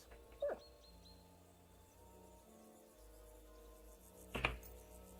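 A dog in the medieval video game Kingdom Come Deliverance 2 whimpers twice, a short whine near the start and another near the end, fairly faint over quiet game ambience.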